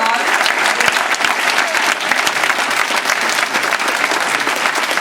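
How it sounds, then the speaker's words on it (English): A Toastmasters District 30 conference audience at an improv workshop in fall 2013 claps loudly and steadily, a thick, continuous wash of many hands with no letup and no one talking. "A bit more applause."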